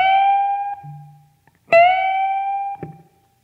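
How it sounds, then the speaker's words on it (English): Two sustained bent notes on an electric guitar in a blues style: a note bent up a whole step, then a half step, each ringing clearly alone with a faint low pick noise between. "the first one we're doing is the whole step, half step bend, which would be up to this note"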